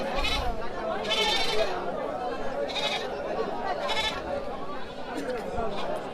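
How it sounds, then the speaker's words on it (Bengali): Several goats bleat in short, repeated calls over a constant murmur of crowd chatter at a goat market at Satpakiya ferry ghat bazaar, Sherpur, Bangladesh, with people talking throughout. "এই পাশে প্রচুর ছাগল"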